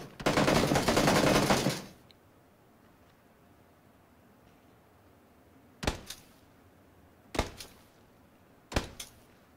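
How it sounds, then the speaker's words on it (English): Gunfire in PlayerUnknown's Battlegrounds: a loud sustained automatic burst lasting about two seconds, then three separate single shots spaced well apart and quieter, with no talk. "They're shooting out the windows"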